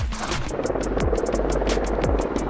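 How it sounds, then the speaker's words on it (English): Rapid rhythmic rotor thudding of a helicopter, loud and close, with a low steady engine hum throughout. "Helicopters are coming."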